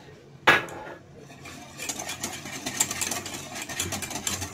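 A spoon scraping and clinking around inside a pot of homemade tomato ketchup thickened with starch, starting with a sharp knock and then continuing in irregular rhythmic scrapes, fairly close.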